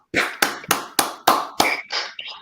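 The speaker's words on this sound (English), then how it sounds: "Help us welcome to the show with a Jock Brothers round of applause" Six sharp, evenly spaced hand claps ring out close and loud in a steady rhythm during an online meeting, welcoming a guest to the show.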